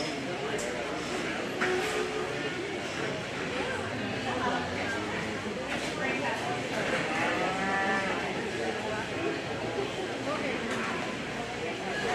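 Cattle lowing at a county fair show where Simmental heifers are being called into the ring, with moos rising out of a constant crowd murmur and chatter, people talking throughout.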